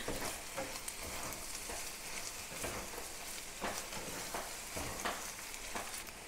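Chorizo frying in a pan, a steady crackling sizzle with sharper pops and occasional stirring scrapes, close and fairly quiet, with no voices.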